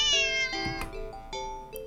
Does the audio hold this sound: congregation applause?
no